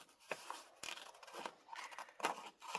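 Scissors snip through index card paper up close in several quiet, separate cuts, each a crisp short snap spaced unevenly.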